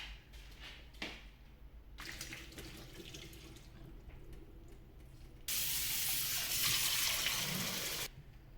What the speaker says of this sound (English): Pasta is cooked, so I drain the water